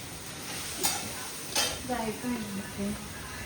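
Moth beans sautéing in oil with onion, turmeric and coriander in a home kitchen pan, a steady close sizzle broken by a couple of sharp utensil scrapes against the pan, with a faint voice speaking underneath.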